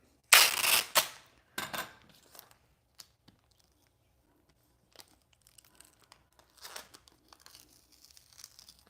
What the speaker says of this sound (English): it's just this packing tape, this clear packing tape